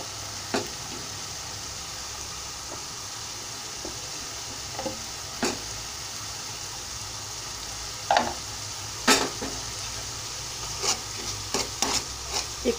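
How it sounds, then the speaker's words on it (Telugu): Dosakaya mutton frying with chili powder in a home kitchen pan: a steady, close hiss of sizzling oil runs throughout, broken by occasional scrapes and clicks of stirring. "కొంచెం 1 నిమిషం వేగాలి"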